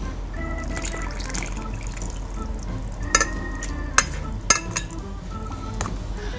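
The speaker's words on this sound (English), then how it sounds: "this cake batter is going to need a good stir" A spoon stirs gluten-free plum and chocolate cake batter, wet ingredients just folded into dry, with a soft continuous wet churning and a few light clicks against the bowl.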